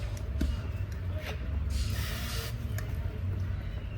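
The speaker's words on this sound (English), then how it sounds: "So, super simple, just spraying it." A long hiss from a garden sprayer swells and fades, with brief hisses and light handling noises around it, close by outdoors.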